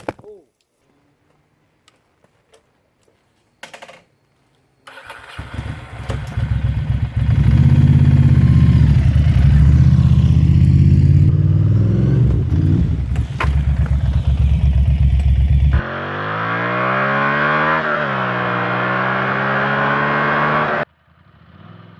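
A Ducati Monster motorcycle engine, just back from a fuel pump repair, cranks and fires up, then runs steadily and loudly at close range with revs rising and falling before shutting off.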